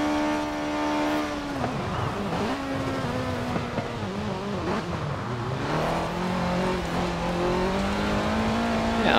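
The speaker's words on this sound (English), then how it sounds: "And it also sounds pretty good in the interior view." A 1985 Ford RS200 Evolution rally car heard from the cockpit in Forza Horizon 4, its engine droning steadily with rising and falling pitch through gear changes, loud and continuous throughout.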